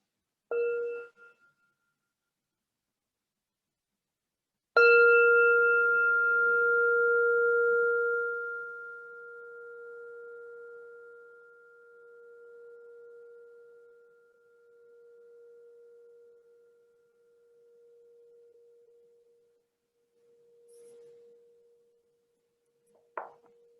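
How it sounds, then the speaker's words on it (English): A mindfulness bell is tapped once lightly, then struck fully after a pause, its clear tone ringing out and fading slowly over many seconds into near silence. "So as I invite the bell"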